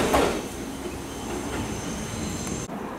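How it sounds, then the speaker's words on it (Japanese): A JR Tsurumi Line train rolling through an industrial area, its wheels grinding and squealing on the rails in a steady high screech over low rumbling, close by and continuous. "この列車に乗って線路をきしませて鶴見駅方面へ帰っていくというわけです"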